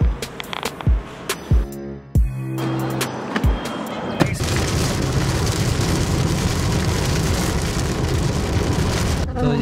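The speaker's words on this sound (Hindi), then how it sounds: "तो जी रास्ते में बारिश स्टार्ट हो चुकी है" Rain falling during a road trip in Pakistan, a steady dense hiss that begins abruptly partway through and continues to the end, preceded by scattered knocks and a short tone.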